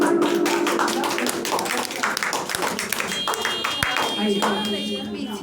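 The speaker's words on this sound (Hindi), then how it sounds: "इनके लिए भी जोरदार ताली मारिए, इनके लिए भी जोरदार ताली" Classroom audience claps for students receiving marksheets at an English coaching class in Husena Ghat, a steady patter of many hands with sharp individual claps, loud and continuous throughout.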